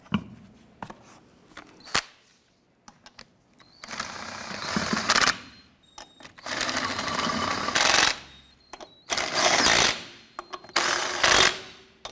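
Lug nuts snugged down on a 1993-1997 Ford Ranger front wheel with a power tool, several loud rattling bursts of a couple of seconds each, separated by short pauses and light clicks.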